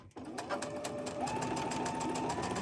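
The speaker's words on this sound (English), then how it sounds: "I'm just going to chain stitch them" A sewing machine runs steadily, chain stitching quilt fabric pieces together in a fabric studio, a close, continuous whirring hum after a brief start.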